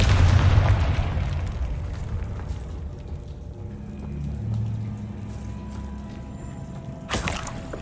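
An explosive spell cast in the wizarding video game Hogwarts Legacy: a loud, deep boom opens the moment and fades into a low rumbling tail, with a second sharp burst near the end.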